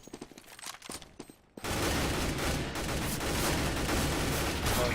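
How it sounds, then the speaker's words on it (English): Rapid gunfire in a competitive first-person shooter match, a sudden dense burst of shots that starts after a short spell of sparse sounds and keeps firing for several seconds. "there's the shotgun kill"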